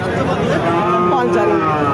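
A cow at a cattle market lets out a loud, close, drawn-out moo amid the murmur of a busy crowd.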